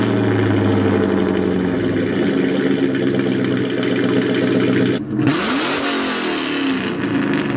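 A V8 Cobra with an off-road X-pipe exhaust rumbles loudly and throatily, holding a steady burble before a quick rev swells and settles again.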